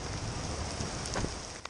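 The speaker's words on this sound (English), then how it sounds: "streets flooding quickly overnight as heavy rain moved into the region" Heavy rain pours down during an overnight storm that flooded streets, a dense continuous hiss of drops on surfaces with a few louder splashes near the end, no voices.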